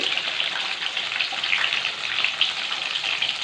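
Ingredients for a green mantis shrimp curry sauté in a hot pan, giving a loud, continuous hissing sizzle close up with no talking.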